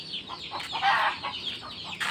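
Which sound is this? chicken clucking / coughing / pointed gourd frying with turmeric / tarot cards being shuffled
chicken clucking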